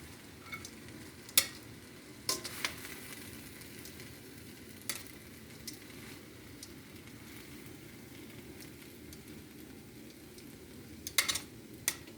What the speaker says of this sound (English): the wok is finished. I'm going to unplug it. I'm going to dish it out.